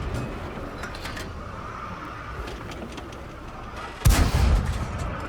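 A Wolverine tank destroyer in a tank video game fires an APCR shell: one sharp, loud boom near the end, rising out of a steady engine rumble and light ambient noise.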